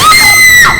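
A woman's loud, high-pitched scream, sustained for under a second with a wavering pitch that drops at the end.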